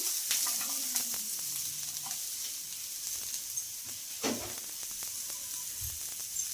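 A semolina dosa scattered with onions cooks on a hot pan, a low steady sizzle and hiss broken by light taps and clicks, fairly quiet throughout.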